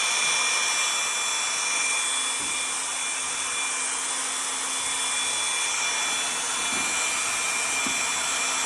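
A Festool sander working on drywall with no dust suction gives a constant close whirring hum with a faint high tone, occasional soft knocks, and no pauses throughout.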